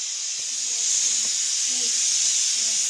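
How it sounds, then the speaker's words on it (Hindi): Steady loud hissing of steam venting from a pressure cooker whistle, continuous throughout, with faint household sounds and a few brief tones underneath. "कुकर की सीटियां बज रही है।"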